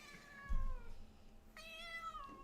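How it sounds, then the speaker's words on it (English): Sadie, a very vocal pet cat, gives two drawn-out meows close to the microphone, separated by a short pause, with a soft bump and faint room noise between them. "This is our most vocal cat, Sadie."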